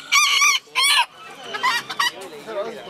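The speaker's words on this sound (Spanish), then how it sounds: "Aquí tienen puro gallo de pulgada" Roosters at a poultry expo in Xochimilco give two loud, close crows back to back. Fainter clucks and crowing from other birds follow in the background.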